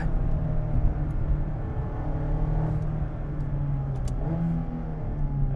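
A stock-plus Mazda Miata ND1 RF with a fresh alignment drives along steadily, its mid-pitched engine droning loud and close under constant road rumble, with slight swells in revs and no talking.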